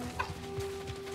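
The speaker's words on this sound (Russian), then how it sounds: "курица" Chicken clucking in the video game Star Wars Jedi Survivor: a few short, soft clucks near the start, quiet under a steady game soundscape with a faint hum.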